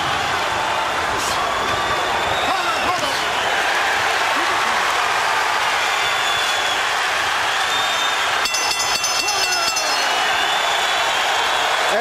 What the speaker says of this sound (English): Crowd applauding as Spadafora slips away.